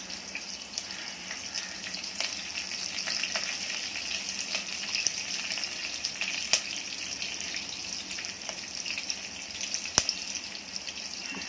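Garlic and curry leaves frying in hot oil give a steady, moderately loud sizzle with scattered crackles and small pops, continuous throughout with no talking.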